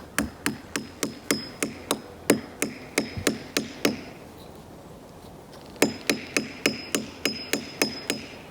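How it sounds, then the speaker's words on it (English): A wooden spile being hammered into a maple tree, with sharp, evenly spaced knocks in two runs split by a short pause, close and loud against a faint outdoor background. "the sound of tapping the spile into the tree"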